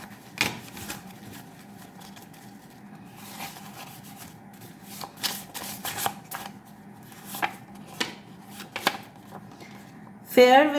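A deck of tarot cards is shuffled close by in a series of short, soft riffling bursts with pauses between them, ending in a sharper flurry; quiet speech can be heard faintly in the background.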